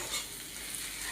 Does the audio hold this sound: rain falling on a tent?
no